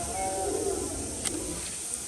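Domestic pigeons kept in coops give low, soft cooing against a steady hissing background, with a faint higher call partway through.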